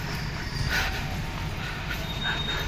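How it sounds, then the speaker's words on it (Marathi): A Pune Metro train pulling into Shivajinagar metro station, with a loud continuous rumble of wheels on rails, brief high squeals, and a steady mechanical whine throughout. "बघा पुणे मेट्रो स्टेशनमध्ये आलं आहे, शिवाजीनगर मेट्रो स्टेशन"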